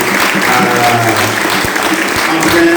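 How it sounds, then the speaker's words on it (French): A church congregation applauds their pastor, sustained loud clapping filling the hall for several seconds with crowd murmur underneath. "Il y a un bel applaudissement pour notre Pasteur Benito Alexis."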